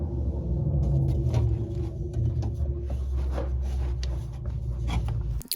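A car pulls up close by with a steady low engine rumble, the cousin arriving to help with a 2003 Ford Mustang New Edge's 8.8 pinion seal job; faint rubbing and shuffling sounds sit over the engine, which cuts off at the end.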